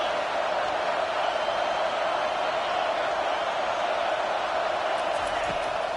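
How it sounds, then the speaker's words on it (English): A football stadium crowd roars steadily during a second-down play, a broad wash of cheering and noise that stays constant in level, with commentary voices likely blended in. "this crowd is turning it up a notch"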